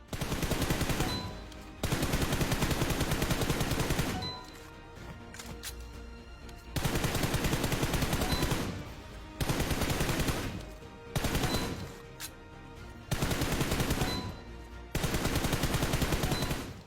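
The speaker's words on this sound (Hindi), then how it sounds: "स्नाइपर से आप थोड़े बहुत टारगेट्स मारो, थोड़े बहुत एआर से मारो" Sniper rifle and assault rifle fire at targets on the PUBG Mobile training ground, loud bursts of rapid automatic shots alternating with brief pauses and single heavy reports, no talking.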